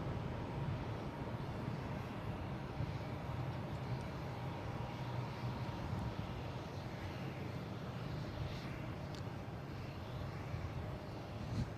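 A British Airways airliner passes at Boston Logan International Airport, a steady broad jet roar holding at an even level throughout, moderately distant, with no talk over it.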